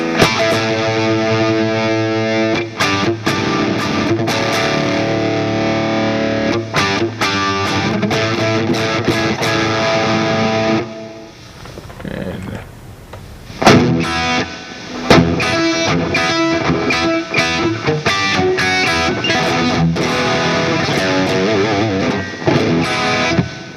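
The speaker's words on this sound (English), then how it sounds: "Even more distortion, and I'm just noticing it." Heavily distorted Squier Classic Vibe Telecaster plays sustained chords through a distortion pedal, cutting out briefly midway before the crunchy, saturated tone returns at full loudness.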